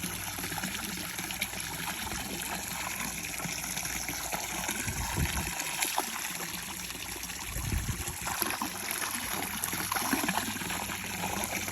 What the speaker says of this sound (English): I'm gonna grab that water hose and spray it around